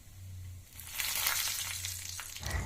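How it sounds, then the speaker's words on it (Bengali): Chana dal, mustard seeds, curry leaves, dried red chillies and asafoetida fry in hot oil for a capsicum chutney, giving a steady close sizzle that swells and crackles, with a low stove hum underneath and no voices. "দিয়ে এটাকে ভালো করে একটু ভেজে নিতে হবে"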